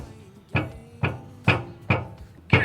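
A hammer tapping a spindle through a rag on a Toyota LandCruiser 80 series, five sharp, evenly spaced knocks in quick succession, close and fairly loud.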